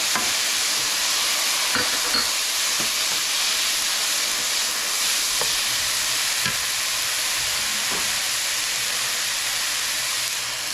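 Salmon fillets and mushrooms sizzle and hiss steadily in a hot pan after a splash of lemon juice, a loud continuous frying crackle with faint stirring clinks, no voices.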